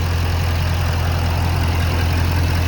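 Close, loud idle of a 2016 Chevrolet Silverado 2500HD LTZ Z71 with its 6.6 liter diesel engine: a steady low rumble with a constant droning hum, unbroken and without any talking.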